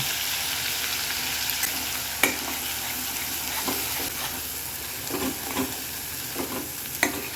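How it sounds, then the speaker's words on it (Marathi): Masala paste with mutton masala fries in oil in a kadai for mutton rassa, a close, steady sizzle with intermittent scraping stirs and light clinks throughout. "आपला मसाला चांगला परतून झाला आहे"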